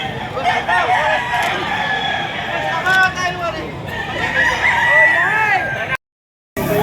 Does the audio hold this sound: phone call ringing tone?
no